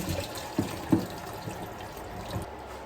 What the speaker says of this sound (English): Now we're just going to drain the pears.